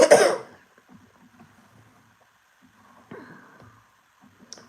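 A single loud cough bursts out at the start, followed by near silence with faint rustling and a short throaty sound later.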